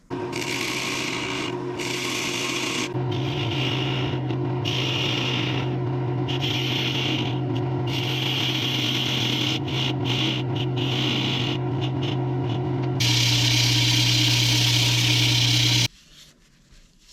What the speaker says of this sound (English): And then we'll sand it, Yorkshire grit, see what the whole thing looks like.